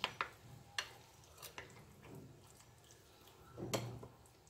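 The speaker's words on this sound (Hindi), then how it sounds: "अब इन सभी आइटम्स को अच्छे से मिक्स कर देना है।" Raw mango chutney with salt, ajwain and mustard oil is mixed in a bowl. It comes through as faint, soft stirring with a few sharp clinks of a utensil against the container.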